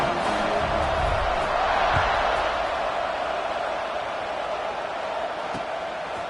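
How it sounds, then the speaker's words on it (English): A college football stadium crowd roars steadily before kickoff in an Oregon versus Vanderbilt game, a broad sustained cheering wash from many distant voices with a few sharp thumps. "this crowd now ready to get behind them"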